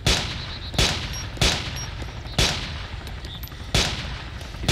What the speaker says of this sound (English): Right here, opening fire.